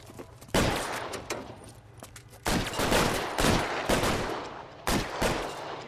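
Gunfire in a shootout in the LA Noire video game, repeated loud cracking shots in irregular bursts over a rumbling background, some close and sharp, others overlapping.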